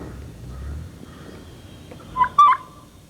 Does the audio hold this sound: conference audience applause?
no